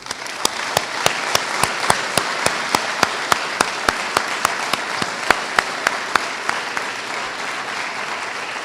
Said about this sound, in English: Please join me applauding this very special group.